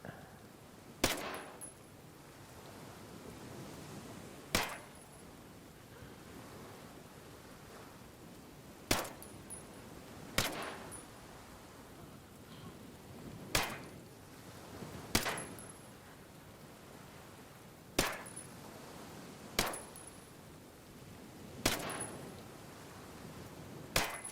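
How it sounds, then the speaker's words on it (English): Suppressed P320 pistol fire in the shooter game Ghost Recon Breakpoint: about ten single sharp cracks spaced a few seconds apart, each with a short metallic ring, over a quiet ambient background. "so let's put the suppressor on"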